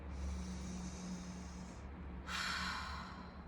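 A person takes a deep breath, drawing in a long, hissy inhale up close, then after a short pause releasing a louder, breathy exhale.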